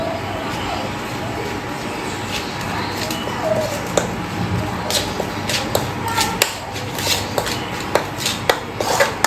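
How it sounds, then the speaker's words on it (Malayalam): Spice marinade with pepper powder stirred in a bowl, producing irregular clinks and scrapes of a utensil against the dish, with soft wet squishing between the taps and background hiss. "ഒന്ന് മിക്സ് ചെയ്തെടുക്കുക ആദ്യം."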